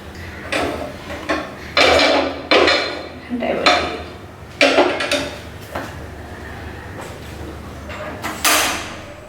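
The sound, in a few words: pot of tea being put on the stove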